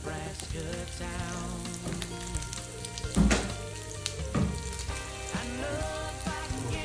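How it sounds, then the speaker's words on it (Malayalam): Mustard seeds, chana dal, urad dal and chilli fry in hot oil for ragi-rava upma, giving a steady close sizzle with scattered pops and crackles under tonal background sound. "ഇതിനകത്തേക്ക് നമുക്ക് കുറച്ച് കടുക്, കുറച്ച് ചനാദാല്, കുറച്ച് ഉഴുന്ന് പരിപ്പ്, മുളക്"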